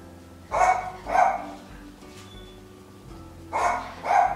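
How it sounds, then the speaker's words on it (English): A pet dog named Brixton barks indoors, two pairs of sharp, moderately distant barks separated by a short pause, with no talking. "when she gets quiet, then Brixton wants to bark"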